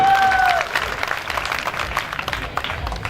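An audience at a Hindi comedy poetry gathering claps in a burst that starts strong and thins out into scattered clapping, with a brief tone at the start.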